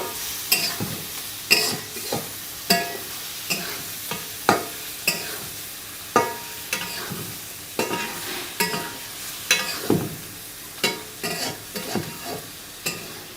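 Prawn masala is stir-fried in a pan, with a spatula scraping and tossing in a steady rhythm of sharp strokes over a constant sizzle and no voices.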